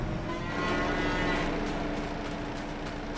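Farm cattle low in a long, deep moo that carries over a steady background, close and fairly loud with no voices present.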